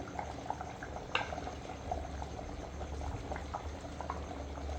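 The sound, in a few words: chicken salna curry boiling in a pot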